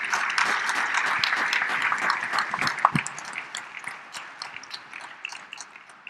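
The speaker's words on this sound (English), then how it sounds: "Let's have a round of applause for our folks here." Audience at the closing general session of a transit conference giving a round of applause, full and steady at first, then tapering into scattered claps.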